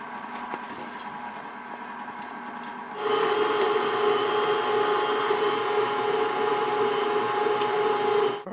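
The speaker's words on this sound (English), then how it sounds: "Just drop it through the chute. Then after a few moments, we're going to start getting our ground beef." A KitchenAid stand mixer running a meat grinder attachment grinds beef, its steady motor whine starting abruptly after a few quiet seconds and holding loud and even until it cuts off at the end.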